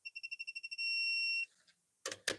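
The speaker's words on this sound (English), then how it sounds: "The beeps get more intense, and then once you hit the torque, it goes solid." A digital torque wrench tightening a vise on a CNC machine setup beeps in rapid, evenly spaced pulses that merge into one solid tone once torque is reached, followed by two sharp clanks.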